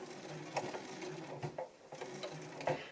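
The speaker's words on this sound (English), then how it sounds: "Now I am simply going to sew" A sewing machine stitches slowly through eight layers of fabric and batting, a quiet run of uneven mechanical clicks and thumps spaced irregularly as the needle punches through, heard alone without talk.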